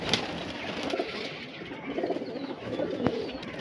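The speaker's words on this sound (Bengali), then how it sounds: "এই ছিল পায়রাটা দেখো।" Punjabi pigeons coo softly at close range, a few low throaty coos over light background noise and a sharp brief click near the end.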